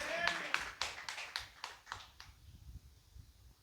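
A church congregation clapping during Sunday worship, a run of sharp rhythmic claps that thin out and fade, with a voice speaking over them.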